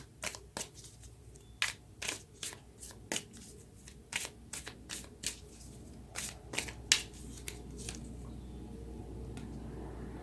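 Tarot cards being shuffled by hand, a run of crisp close riffling snaps in an uneven rhythm that thins out toward the end over a faint low hum, without talk.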